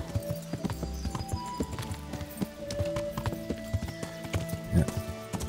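In the video game Kingdom Come Deliverance, a horse's hooves clip-clop in a steady, moderately loud rhythm, with game ambience and occasional creaks layered around the footfalls.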